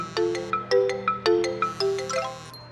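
A mobile phone ringtone chimes in a classroom, a bright, melodic run of bell-like notes repeating in a quick rhythm at moderate volume for a few seconds.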